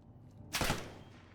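Gunfire from the video game Black Ops 6 in ranked play: a single dense burst of shots that hits suddenly near the middle, loud and close, then trails off into a fading tail with no voices.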